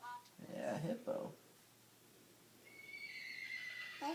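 A voice imitates a horse with a high, wavering neigh near the start, followed by quiet, faint background sounds and a brief voice at the end.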